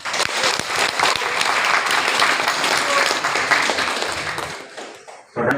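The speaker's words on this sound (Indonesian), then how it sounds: "Tepuk tangan lagi." An audience at a doctoral promotion ceremony in Makassar breaks into dense, lively hand clapping that holds steady for several seconds before tapering off, with a short burst returning at the end.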